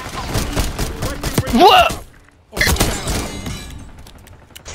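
Pistol gunfire in Black Ops 6: several sharp bursts and impacts over game noise and speech in the first half, a short lull, then more firing trailing off under talk.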